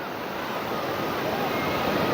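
Ocean waves crash on the shore in a steady, close, broadband roar with some wind noise, and no voices are heard.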